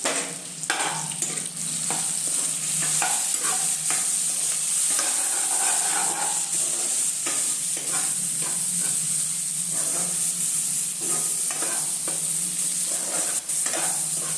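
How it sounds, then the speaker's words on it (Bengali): Spice masala with dry chilli powder and salt stir-fries in a pan, a loud, steady sizzling hiss with rhythmic scraping of a spatula, close up, with no talking. "এবার ভালো করে মশলাটা কষাতে থাকবো।"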